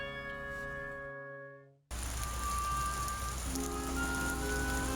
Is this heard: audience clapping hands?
no